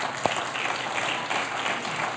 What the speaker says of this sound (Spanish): ¿No le das un aplauso al Señor, mujer?